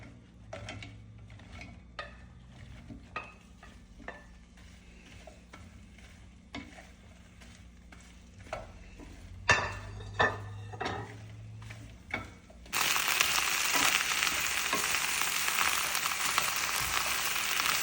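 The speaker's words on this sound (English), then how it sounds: "1 teaspoon of olive oil, and then I'm going to add the okras" Okra frying in a teaspoon of olive oil for a vegan Indian stew, with soft clicks and stirring scrapes in the pan before a loud, steady sizzle breaks out and carries on.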